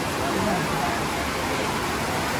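Monsoon rain pours steadily over a night market in Chiang Mai, Thailand, a loud, dense, continuous hiss filling the whole stretch with no break.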